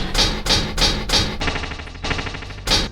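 Unusual hi-hat samples in an experimental trap-style beat tick in bright, noisy pulses, several regular strikes then a quick rolling stretch, shifting across the stereo field over a low rumble.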